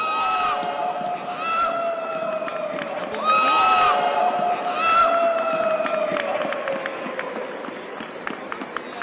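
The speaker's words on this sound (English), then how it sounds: "The Chelsea team being spurred on by the home crowd, starting to make their voices heard." A home crowd at a Chelsea women's football match roars and chants, with sustained singing voices rising and falling across the stadium and a commentator speaking over the noise.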